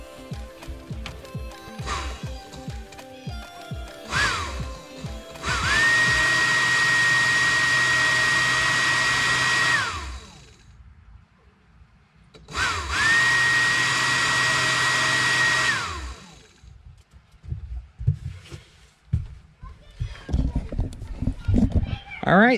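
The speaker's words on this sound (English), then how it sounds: "I'm gonna go up and turn the blower on and see if it kicks on." An electric exhaust blower on a Mercruiser boat engine runs in two steady whooshing bursts of several seconds each, close and loud, separated by a short pause, with someone talking before and after.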